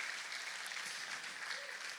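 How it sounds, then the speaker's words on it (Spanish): A church congregation claps together during a Sunday sermon, producing a dense, steady wash of applause that holds at an even level throughout. "Denle un aplauso al Señor si usted lo cree"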